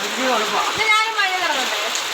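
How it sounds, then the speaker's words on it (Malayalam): Heavy rain pours down in a steady dense hiss while a voice speaks briefly over it. "ആ, നല്ല മഴ കേട്ടോ."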